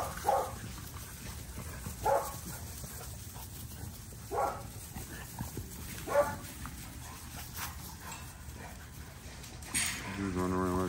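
Puppies bark and whimper in short, spaced yips and whines over a quiet room background, fairly close, with a louder burst near the end.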